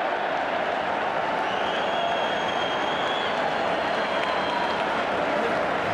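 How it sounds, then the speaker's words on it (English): A rugby crowd at an Edinburgh match roars in a dense, steady wall of cheering that holds at full volume throughout, with no breaks. "Huge cheer around the ground."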